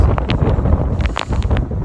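Strong wind buffeting the microphone at the Kelebokka viewpoint in rain, a loud continuous roar with gusty rumbles and scattered brief rustles.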